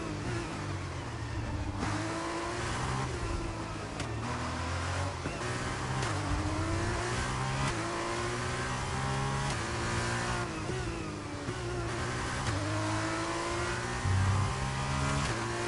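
An F2 race car engine in the racing game F1 23 screams at high revs, its pitch climbing and dropping with each gear shift over a sustained, steady drone.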